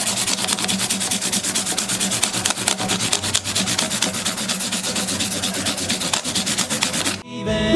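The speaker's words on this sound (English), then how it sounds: "I've got a piece of 600 sandpaper, and I go this way with it" Sandpaper of 600 grit rubs rapidly back and forth over the frets of a Martin acoustic guitar, a close, loud, rhythmic scratching that continues steadily before stopping abruptly near the end.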